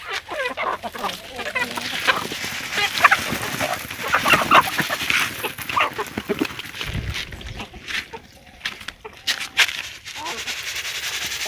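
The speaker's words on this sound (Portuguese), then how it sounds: "dando comida na minha criação de galinha" Backyard chickens, including a big rooster, cluck and squawk at feeding time in an open farmyard, a busy scattered chatter close by with rustling around them.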